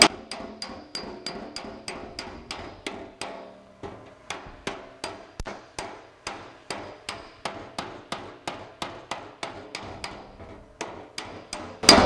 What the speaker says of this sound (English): we get our slapper, and we're gonna watch our little footprints here.